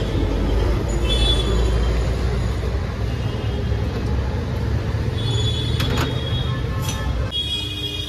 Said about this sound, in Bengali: Howrah ধর্মতলার metro, green line metro.